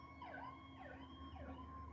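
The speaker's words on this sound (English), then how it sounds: "got a lot of sirens going by here." Distant emergency vehicle siren wailing in repeated up-and-down sweeps, faint and steady over a low background hum, on a street near a firehouse.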